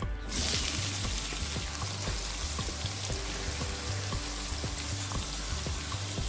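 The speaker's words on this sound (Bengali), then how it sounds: "সর্ষের তেল দিয়ে আমি এখানে ফোড়ন দিচ্ছি গোটা গরম মশলা" Whole garam masala spices sizzle and crackle steadily in hot mustard oil, a dense, continuous frying hiss with small pops throughout, close and fairly loud, no voices.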